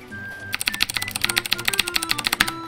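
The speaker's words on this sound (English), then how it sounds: "This is what the keyboard sounds like." Rapid clicky typing on a Quickfire TK mechanical keyboard with Cherry Blue switches, close to the mic, a steady run of sharp keystrokes that starts after a brief quiet moment.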